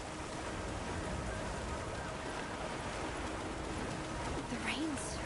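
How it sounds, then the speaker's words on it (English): Heavy rain pours down steadily in a Monster Hunter Wilds forest, a dense continuous hiss of downpour throughout, with a faint whistling tone near the end. "The rain's really coming down."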